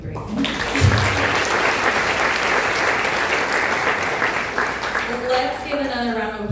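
An audience at a student summit dinner panel breaks into loud, dense applause with a few cheers, sustained for several seconds before a voice begins speaking over the tail end.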